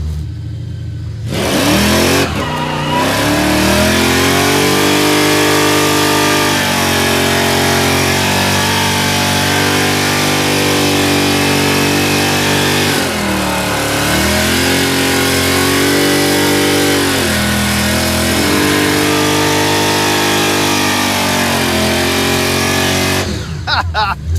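A big block Chevrolet Impala with EFI revs hard while spinning donuts, a loud sustained engine roar with rising and falling revs and tire noise, close and continuous for over twenty seconds, cutting off at the end.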